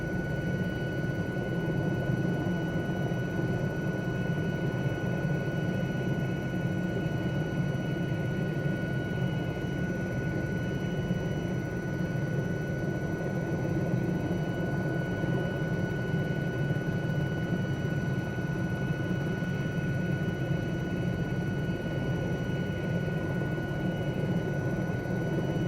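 An Aérospatiale SA316 Alouette III helicopter drones steadily throughout, a continuous engine and rotor hum with a constant whine, with no talk over it.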